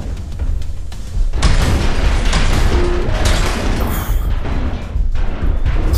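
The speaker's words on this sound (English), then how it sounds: "It's a tough, tough shotgun this is." A shotgun fires in Exoshock VR, a sci-fi shooter, with heavy blasts and booming impacts that run on loud and dense amid mechanical clatter and the odd brief synthetic tone, close up, with no speech.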